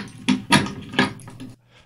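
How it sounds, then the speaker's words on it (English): A few close metallic clicks and clacks in quick succession, like a lock's shackle being worked and snapping open, followed by quiet. "That is the sound of a padlock opening."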